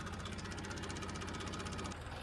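A steady tractor engine rumbles throughout with a rapid, regular knocking pulse, close by and unbroken, with no voices.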